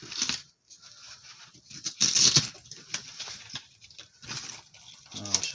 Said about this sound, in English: Oh, it's just the zippers making that noise.